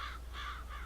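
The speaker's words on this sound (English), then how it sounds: "Scaring the birds." Crows caw in the video game No Man's Land, three harsh calls in a slow, even rhythm over a steady low hum, fairly close and clear with no talk.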